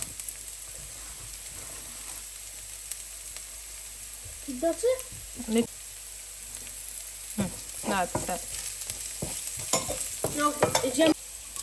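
Chopped onions are tipped into a hot pan of green chillies, setting off a steady sizzle that comes in bursts as they are stirred, close and moderately loud and growing busier toward the end.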